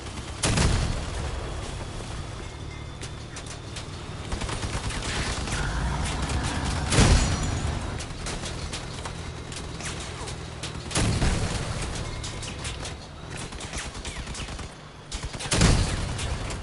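Gunfire in the Crossout vehicular combat game: sustained rattling bursts punctuated by several heavy booming shots, loud and continuous throughout.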